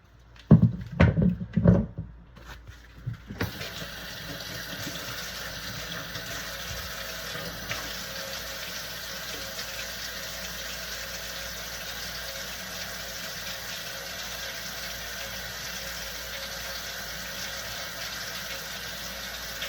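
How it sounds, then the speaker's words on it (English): Vegetables rinsed under a running kitchen tap for chicken soup, a few clunks and splashes at first, then a steady, even rush of water flowing on. "I'm just gonna give these a quick rinse."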